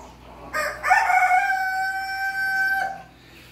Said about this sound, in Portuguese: O galinho tá de castigo de novo, tá na gaiola.